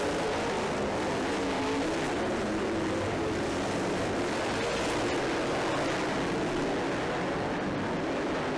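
Race cars roar around a dirt track in a dense, continuous wash of engine noise that holds steady and loud throughout, with no voices heard.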